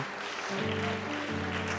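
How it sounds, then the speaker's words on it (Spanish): A church congregation applauds in a steady, crowd-wide wash of clapping, underneath sustained, droning instrumental tones that swell midway. "dele un aplauso, dele la mejor alabanza"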